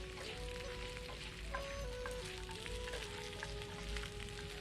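Shredded taro, sausage and dried shrimp stir-fried in hot oil in a wok give off a steady, close sizzle that holds evenly throughout, with a faint tonal hum running beneath it.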